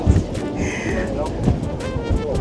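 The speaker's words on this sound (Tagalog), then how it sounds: "it's very windy" Strong wind buffets the microphone in gusty, rumbling bursts, with a voice speaking faintly underneath.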